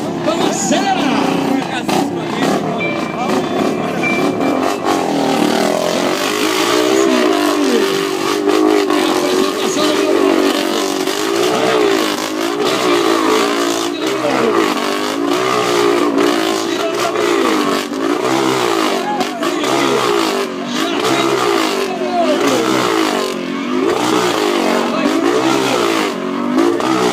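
Several motorcycles revving hard inside a steel globe of death at a live show, a loud continuous roar of engines rising and falling in looping waves as the riders circle, with voices faintly underneath.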